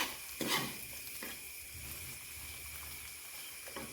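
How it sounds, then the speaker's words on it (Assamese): Steady sizzling of spices frying in a pan for pigeon curry, with a few scraping stirs near the start and end, no voices. "সেইকাৰণে চাওক মছলাখিনি ভাজিছোঁ।"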